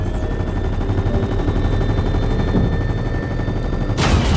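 Rapid gunfire and rocket launches in the Fortnite Collision live event, a steady dense barrage throughout, with a sharper burst near the end.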